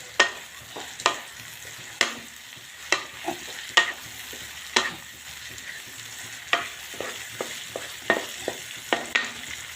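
A paneer and amaranth greens curry is stirred in a pan, the spoon scraping the bottom in sharp, regular strokes about once a second, close and clear over a low background hiss.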